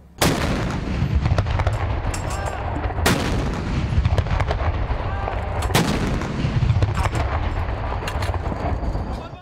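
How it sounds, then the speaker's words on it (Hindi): Artillery cannons fire a ceremonial salute for Eid Milad-un-Nabi in Pakistan, with heavy booms at regular intervals of a few seconds over steady crowd and outdoor noise. "दिन के आगाज पर वफाकी दारुलहुकूमत इस्लामाबाद में 31 और सूबाई दारुलहुकूमतों में 21-21 तोपों की सलामी दी गई।"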